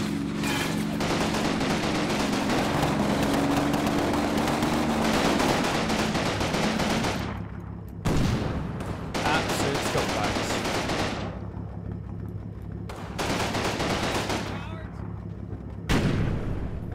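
Panzer gunfire in the Combat Mission wargame: loud, dense bursts of firing and booming blasts that rumble continuously, broken by short pauses and sharp renewed volleys.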